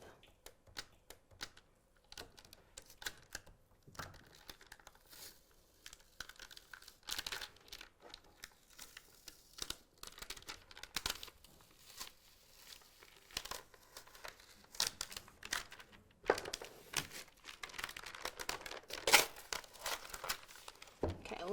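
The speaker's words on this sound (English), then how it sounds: "Go ahead and slowly remove that transfer tape." Cricut transfer tape being slowly peeled off a notebook: faint, quiet crackling and crinkling in irregular bursts, running continuously with scattered sharper ticks and no talk.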